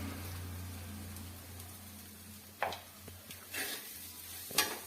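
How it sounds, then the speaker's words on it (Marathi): Poha frying in a pan with turmeric as a spoon stirs it, a faint low sizzle with a hum beneath and a few soft scraping strokes toward the end. "मस्तच आता एकजीव करून घेते तोपर्यंत"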